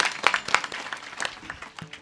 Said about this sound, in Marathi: जोडीसाठी टाळी वाजवा एकदा जोरदार.